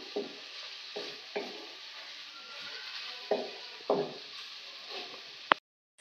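A spoon stirring chhole masala with turmeric, onion and garlic in a pan, with several scraping strokes over a soft sizzle and a sharp knock near the end.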